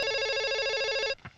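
An electronic telephone rings in a Tamil film scene, a steady warbling trill lasting about a second before it cuts off, followed by a brief faint thump.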